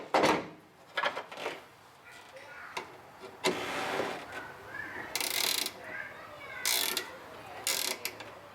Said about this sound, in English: ratchet spanners for the win